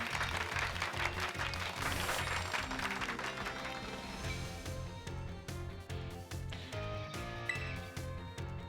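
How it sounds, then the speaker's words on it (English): Continuous applause and cheering for Pikachu in Pokemon Violet fill the clip at a steady level, layered over an upbeat game music track with chiming notes. "Give Pikachu a round of applause,"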